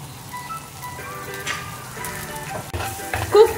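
Chili powder and turmeric masala frying in a pan with green chilies for a Kerala squid dish, giving a soft, steady sizzle with a few stirring scrapes and crackles that grow a little louder toward the end.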